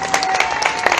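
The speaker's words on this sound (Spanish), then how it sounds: "Vengan esos aplausos para Cristo" A church congregation claps in a quick burst of dense, overlapping applause that holds steady for about a second.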